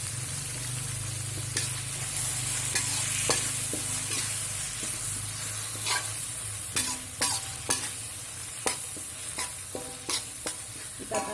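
Crushed galangal, ginger, bay leaves and lime leaves frying in a nonstick pan: a continuous hissing sizzle with a low rumble, broken by crisp scrapes and taps of a stirring utensil that grow more frequent toward the end, close and fairly loud.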